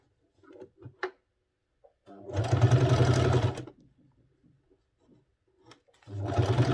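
A sewing machine stitches a plaquette on a men's senator wear garment in two close, steady whirring runs of a second or more each, separated by quiet handling clicks.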